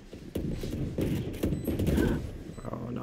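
Gunfire in a shooter video game, with bursts of shots crackling close and loud amid other game sounds, under a busy mix with no clear talk.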